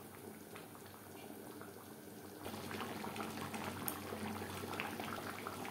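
Chicken curry with potato simmering in a pot, a low steady bubbling boil that thickens and grows slightly louder midway, no talking.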